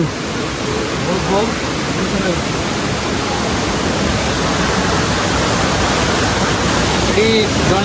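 A waterfall during heavy rain gives a loud, steady roar of rushing water throughout, with faint voices barely surfacing through the noise.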